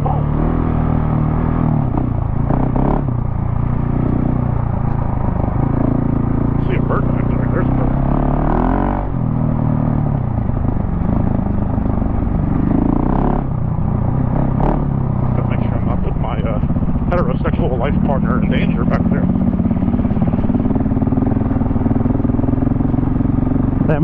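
KTM 690 Enduro R motorcycle riding a forest trail in Ocala National Forest, a loud steady engine drone with rumbling and clattering throughout, riders' voices talking over the engine noise.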